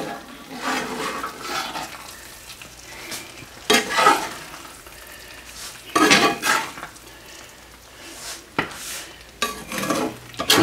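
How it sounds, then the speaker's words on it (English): Ground deer meat with vinegar is stirred in a pan, with repeated bursts of sizzling and scraping of the utensil against the pan at irregular intervals, close and fairly loud, no talk. "Stir it up a little more. Make sure I get that vinegar everywhere."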